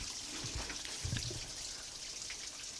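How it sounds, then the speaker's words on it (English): Water trickles and dribbles out of an above-ground pool filter after its cap is unscrewed, a faint, steady running sound with a few louder splashes near the start. "some water's going to come out"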